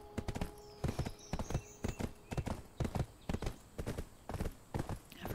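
Horse hooves clip-clop in Black Desert Online as a steady, close, rhythmic gallop of sharp repeated strikes, with a faint whinny briefly above it.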